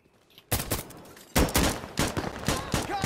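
Gunfire in Insurgency: Sandstorm, a quick series of sharp, close shots starting after a brief quiet, rapid cracks in uneven rhythm, loud and alone.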